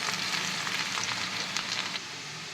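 Onions and green chillies fry in a pan, a steady close crackling sizzle with soft spatter pops throughout, alone without talk.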